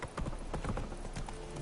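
Horse hooves clip-clop at a quick, even pace in The Witcher 3 video game, close and continuous, with game ambience underneath and no speech.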